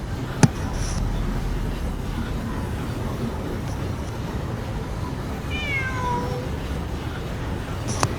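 A cat in the Genshin Impact video game gives a short rising-and-falling meow near the end, heard over a steady low background hum with a couple of sharp clicks.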